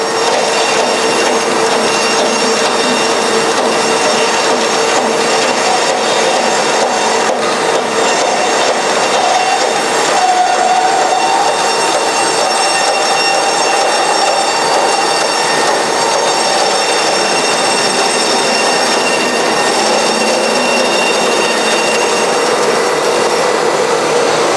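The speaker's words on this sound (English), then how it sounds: "I feed the workpiece into the saw by pulling" A bandsaw runs steadily, loud and close, while a workpiece from a long roll of material is pulled through the blade, producing a continuous whirring drone with no talking.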